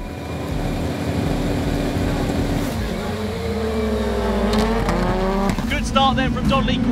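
Rallycross cars race at Pembrey in a round of the British Rallycross Championship Five Nations Trophy, engines roaring steadily with rising revs and shifting pitch, while a commentator talks over the racing.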